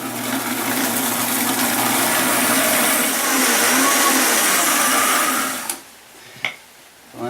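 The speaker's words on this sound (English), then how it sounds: "we just put the blender on there and" A blender blending salsa whirs loudly and steadily for several seconds, then cuts off abruptly, leaving a few faint clicks and knocks.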